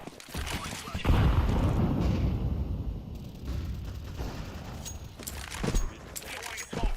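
Flashbang grenade detonations and gunfire in a Counter-Strike 2 match, loud dense bursts with a heavy boom near the start and again around the middle, while players talk over the action throughout.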